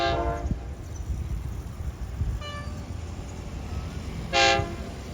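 Special express diesel railcar train No. 44 from Surat Thani to Bangkok Krung Thep Aphiwat rumbles past nearby with steady running noise, and its horn sounds two short toots, the second louder.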